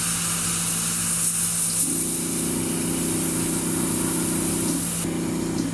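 An airbrush sprays lacquer paint with a steady hiss of air, a low motor hum underneath and a soft buzzing tone that starts, runs a few seconds, cuts out, then returns.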